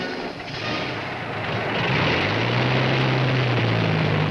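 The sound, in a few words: Mustang fighter plane V12 engine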